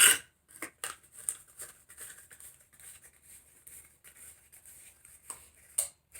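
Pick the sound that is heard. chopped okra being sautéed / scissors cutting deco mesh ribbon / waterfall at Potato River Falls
scissors cutting deco mesh ribbon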